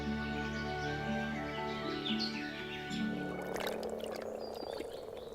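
Moor frogs croak and purr in a continuous chorus, with bird chirps scattered over the top and a brief splashing rustle near the end.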